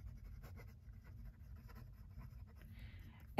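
An Esterbrook fountain pen scratches across paper in a Camden composition notebook, faint close strokes in a soft irregular rhythm with quiet pauses.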